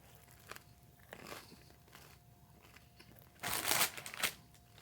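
Crunchy bites and chewing of grilled cheese on sourdough bread, crisp outside and soft inside, close up: scattered soft crackles, then a louder burst of crunching near the end, no talking.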